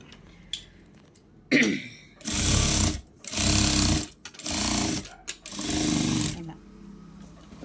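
Electric sewing machine stitching a shaped belt, running in several short whirring bursts separated by pauses, with small clicks and handling sounds between runs.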